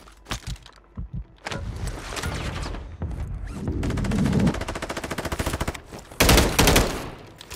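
Gunfire in a ranked online shooter match, with single sharp shots opening into fast automatic bursts and rattling volleys, loud and close.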